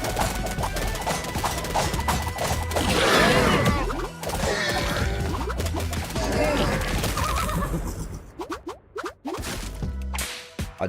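A stallion whinnies in a merchant-trading video game, a loud neigh rising out of busy game music and clattering effects, with a few sharp knocks near the end.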